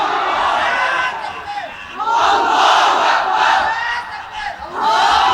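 A large crowd at a Bengali religious sermon roars the Takbir chant in unison, loud, near and repeated in rhythmic waves, each shout swelling and dipping in turn.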